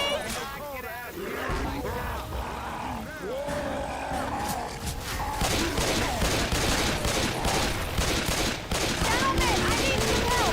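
Gunfire in a video game, with rapid bursts of shots and vehicle noise running throughout while players shout over it.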